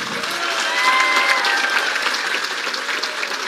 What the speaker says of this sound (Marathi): धनुभावाबरोबर आहेत तर एकदा टाळ्या वाजून हो म्हणा